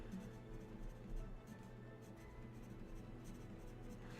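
A pencil scratching on paper, soft and close, in a series of short irregular strokes with quiet room tone between them.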